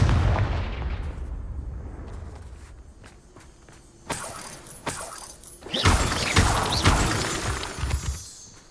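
Confringo blasting spell in the video game Hogwarts Legacy, a sharp burst followed by loud crashing, shattering debris and scattered impacts, after quieter footsteps and clicks, no talk.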